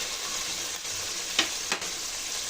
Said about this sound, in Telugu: ఈ టమాటాలంతా బాగా కలుపుకొని బాగా మెత్తగా అయ్యేంత వరకు కుక్ చేసుకోవాలి